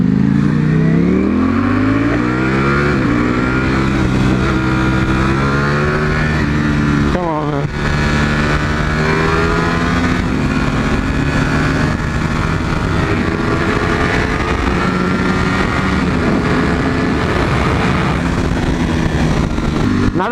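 A Ducati V4 motorcycle at full throttle, its engine screaming loud and close as the pitch climbs through the gears, with a sharp gear-change break around seven seconds and then a sustained high roar.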